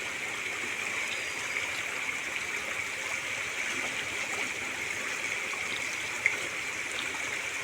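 A small village stream, still low on water after two days of rain, flows with a continuous, close gurgling rush, steady and unbroken, with no voices.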